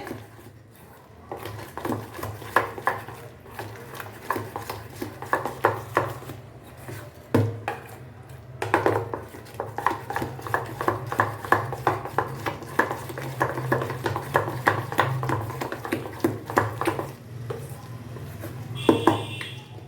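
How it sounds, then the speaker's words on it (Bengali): Ground lentil paste whisked round and round by hand in a bowl, as batter for a stuffed pointed gourd fry: a steady run of quick, close scraping and tapping strokes against the bowl, with no voices. "এইভাবে ঘুরিয়ে ঘুরিয়ে ভালো করে ফেটিয়ে নিতে হবে।"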